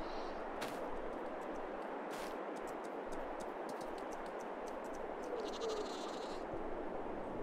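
Sheep in the video game Farming Simulator 22 bleat a few times over a faint, hissy farm ambience, with sharp clicks and ticks scattered through the quiet background.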